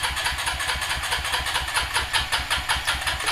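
A Honda Rancher ATV engine with carburetor trouble cranks over in a fast, even chugging rhythm, loud and close, with no voices.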